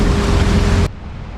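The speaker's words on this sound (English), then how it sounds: "once we get around this point and into the bay, the wind will turn a little bit and these waves will calm down" Strong wind and heavy ocean swells roar around a boat motor sailing toward a bay off Costa Rica, a loud, dense, continuous rush that drops sharply in level partway through.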